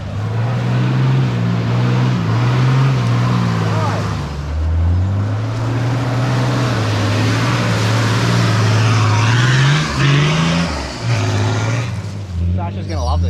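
A 4x4 Toyota Land Cruiser engine revs hard toward redline while driving through the Tannum ruts near Gladstone, a loud close drone rising and falling in pitch with off-road clatter, and people talking over it.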